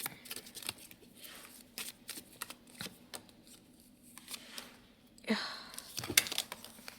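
Tarot cards are shuffled by hand, a quiet, close run of riffling flicks and papery slaps, ending in a louder clatter as several cards fall out.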